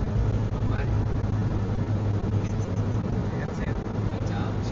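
Vehicle exhaust in sport mode, a dense low engine rumble running steadily throughout, loud and close, with an excited voice talking over it.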